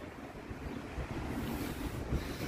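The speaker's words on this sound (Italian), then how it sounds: "Troppo vento!" Strong wind buffets the microphone outdoors around Lugano, a steady rumbling roar with gusts, close and fairly constant with no voices.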